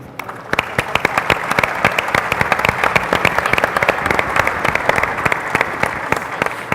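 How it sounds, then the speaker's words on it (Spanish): Loud, sustained audience applause at a national social-oversight meeting panel, many hands clapping in a dense, crisp patter that starts quickly and holds steady for several seconds without any speech. "Lo recibimos con un fuerte aplauso."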